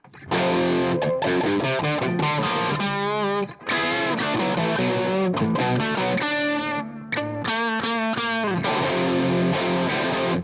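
Loud distorted electric guitar played through a HeadRush Gigboard with reverb, chords and riffs continuous, a washy reverberant tail around the notes and brief gaps between phrases.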